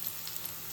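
Onions and ginger garlic paste sizzling in hot oil in a pan for a prawn roast, a brief, steady, close frying hiss with no voices.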